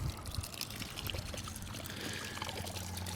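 Water pours steadily from opened drain valves on a home irrigation system, a continuous splashing trickle heard close and alone throughout.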